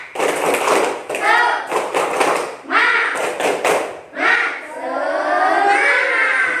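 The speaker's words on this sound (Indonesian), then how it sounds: "Coba tepuk semangat." A fourth-grade class at SDN 9 Hegarsa primary school performs a rhythmic clap routine, bursts of sharp group claps in patterned sets alternating with children's chanting voices, close and lively.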